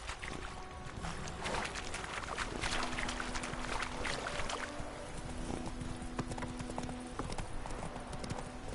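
Roach the horse in The Witcher 3 trots along, with a steady run of hoof clip-clops close up over a noisy outdoor game soundscape, moderately loud throughout.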